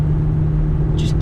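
Deep, steady rumble of a Ferrari 360 Modena engine idling close by, a low constant tone with two short hissy bursts near the end.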